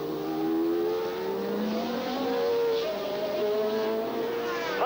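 Screaming engines of 1981 Formula 1 cars at the Dutch Grand Prix, including a turbocharged Ferrari, heard as overlapping high whines that rise and fall as the cars pass, loud and continuous through the whole stretch.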